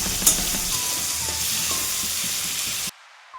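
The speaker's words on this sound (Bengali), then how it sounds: "চিংড়ি মাছ ভাজা হয়ে গেছে" Prawns frying in hot oil produce a loud, dense sizzle with small stirring knocks. It holds steady for about three seconds, then cuts off abruptly.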